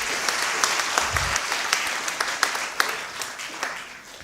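An audience claps at a film festival closing ceremony, dense sustained applause with some sharper individual claps standing out near the front, continuing evenly without talk.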